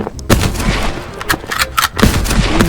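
Gunshots in the co-op video game Fog of Life 2, loud repeated sharp bursts of gunfire in rapid irregular succession, close and dominant.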